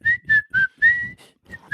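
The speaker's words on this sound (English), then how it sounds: "The whistling in the corner." A man whistles a short, casual tune in a TV show scene, with four or five clear, fairly loud notes in a choppy rhythm and nothing else heard.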